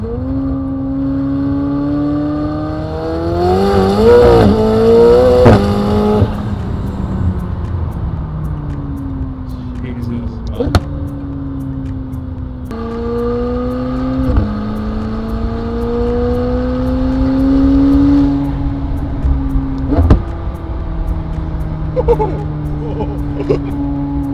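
McLaren 720S with a rebuilt high-power engine accelerating hard in third gear, loud rising engine note climbing through the revs, with gear changes and a second pull, continuous and close throughout.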